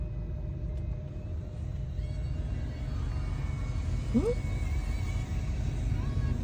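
Steady low road rumble of Valentine's Day traffic, a continuous engine drone running the whole time with faint voices and small incidental sounds on top.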